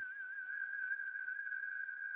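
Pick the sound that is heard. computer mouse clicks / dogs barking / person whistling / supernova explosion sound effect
person whistling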